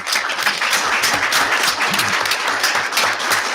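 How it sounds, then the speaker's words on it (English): Applause for two town staff members at a monthly council meeting, a steady wash of clapping from a roomful of people lasting the whole stretch, fairly close and even in loudness. "I think we owe these two a round of applause too."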